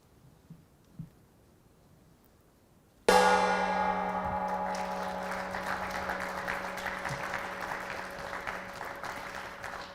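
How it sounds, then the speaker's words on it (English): A gong struck once to close the 2022 Tata Steel Chess Tournament rings out loudly with a long shimmering decay, as audience applause rises and carries on beneath it. "al, the gong has been put up behind you, and we will leave it to you to officially close this 2022 Tata Steel Chess Tournament by hitting the gong."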